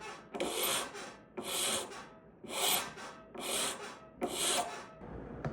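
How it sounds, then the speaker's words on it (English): A hand file rasps across the top of a metal ring to contour it, giving five distinct scraping strokes in a steady back-and-forth rhythm, close and moderately loud, with no voices. "We're going to start filing the top, making it more contoured to fit the other ring."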